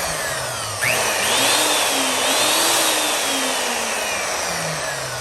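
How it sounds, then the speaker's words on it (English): A restored Black and Decker 6126 Type 3 polisher spins up fast with a steady, loud motor whine, its pitch climbing after a short start and then holding as a continuous drone. "that seems to be spinning real fast for a buffer"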